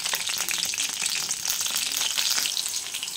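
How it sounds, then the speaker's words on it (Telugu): Green chillies fry in hot oil in a pan, giving a steady, close, bright sizzle and crackle with no voices. "ఆయిల్ వేసిన తర్వాత పచ్చిమిరపకాయలు వేసేస్తున్నాను."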